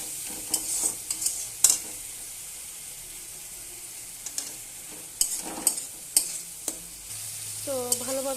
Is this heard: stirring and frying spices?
yes